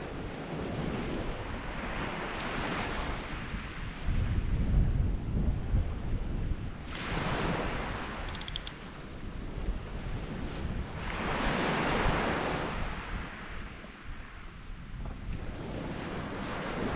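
Strong, gusty wind of about 25 to 28 mph roars over the Holderness coast, with surf crashing beneath it; the gusts surge and ease in waves, buffeting the microphone.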